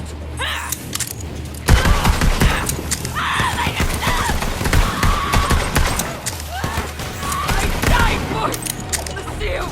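Gunfire in Borderlands 3, with sharp shots in irregular bursts mixed with horse hooves and whinnies, plus game character voices in the mix.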